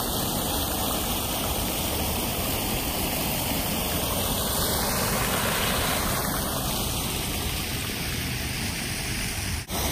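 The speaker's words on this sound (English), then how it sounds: "there's a lot of noise like the water fountain to my right" An outdoor water fountain splashes in a steady, dense hiss that fills the whole stretch, loud and close with no pauses, captured on a Rode VideoMic Me-L.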